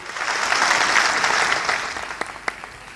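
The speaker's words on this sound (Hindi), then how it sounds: "जोरदार तालियां मारिए।" Loud, sustained applause from an audience at an Achievers Day celebration, a dense wash of clapping that gradually thins out, leaving a few sharp individual claps near the end.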